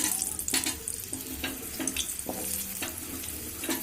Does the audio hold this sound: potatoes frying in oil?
yes